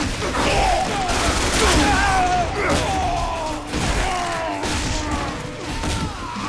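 Gunfire from the Bulletstorm game rattles in clustered bursts with thuds and crashes, mixed with whooshing effects and a voice talking over the action.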